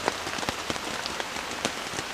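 Steady rain falls through a bamboo forest, a dense even hiss with scattered louder drops hitting nearby surfaces throughout, close and continuous with no voices.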